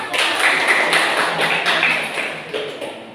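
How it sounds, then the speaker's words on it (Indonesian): A classroom of students clapping together, a dense, steady burst of applause close by that tapers slightly toward the end. "Tepuk tangan buat kita"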